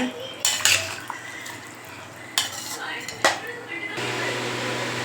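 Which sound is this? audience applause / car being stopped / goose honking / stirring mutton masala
stirring mutton masala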